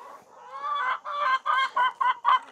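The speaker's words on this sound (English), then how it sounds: "we got a bunch of hungry foliage chickens" Hungry backyard chickens waiting for feed let out a close, lively run of clucks and squawky calls, coming in short bursts one after another with no talking.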